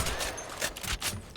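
The Alternator gun fires in a video game, a quick, faint string of rapid shots crackling in bursts.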